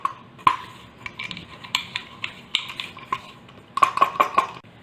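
Crushed peanuts and chevda being mixed into a pot of farali suran khichdi, with a spoon clinking and scraping against the metal pot in irregular taps, closer together near the end, fairly quiet.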